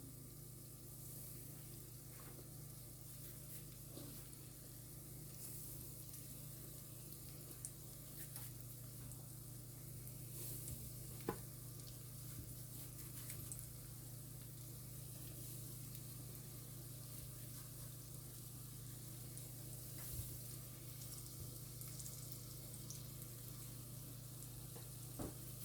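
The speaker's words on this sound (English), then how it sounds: "we're frying them in corn oil" Continuous soft crackling and sizzling of chicken balls frying in corn oil over medium-low heat, steady and fairly quiet throughout with no talking.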